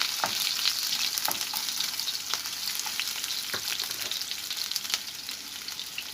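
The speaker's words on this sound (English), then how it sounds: "I'm gonna add my onion in," Chopped onion hits hot oil in a frying pan for a Jamaican tinned mackerel dish, giving a steady close crackling sizzle with faint stirring clicks, no voices.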